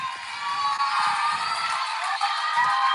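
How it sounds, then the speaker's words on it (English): Crowd cheering and whooping in a sports arena, a steady, fairly loud roar that carries on through the whole stretch without a break. "And there's a big cheering fan down at the far end."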